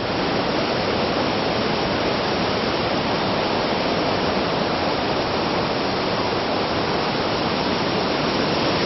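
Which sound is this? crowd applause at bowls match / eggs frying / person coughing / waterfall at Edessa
waterfall at Edessa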